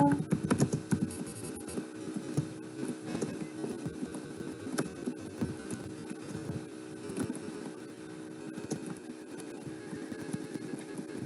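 Fingers tap steadily on a computer keyboard, a continuous run of quiet, close clicks with irregular bursts and short pauses and no voices.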